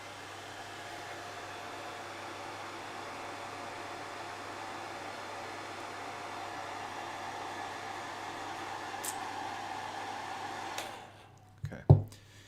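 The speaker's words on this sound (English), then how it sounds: "I'm just going to get the hairdryer again" A hairdryer blows a steady, even whoosh while drying paint on Space Marine miniatures, running for about eleven seconds before switching off, followed by a couple of soft handling knocks.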